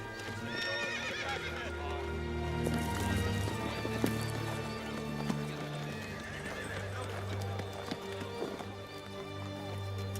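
A horse whinnies and its hooves clip-clop in a medieval army camp, set against a steady low drone and bustle; the neighs ring out clearly amid continuous background sound with no speech.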